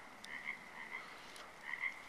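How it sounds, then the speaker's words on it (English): Frogs croaking at night near a campsite, a chorus of short rasping calls repeating in quick clusters, fairly faint and distant with no voices over them. "And frogs keep croaking, whatever."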